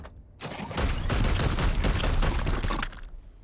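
Sustained burst of heavy gunfire in Warhammer 40,000: Chaos Gate, a dense continuous volley of cracking shots lasting about three seconds, loud and close, cutting off abruptly with no speech over it.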